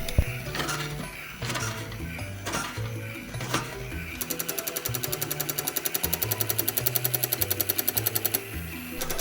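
Motor-driven gear wheel inside a crawling toy soldier, first a few uneven mechanical clunks, then a fast steady rattling machine-gun chatter of rapid regular clicks that runs for several seconds, close and fairly loud.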